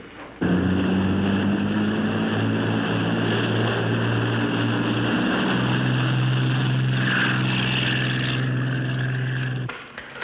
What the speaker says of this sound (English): No, only one helicopter.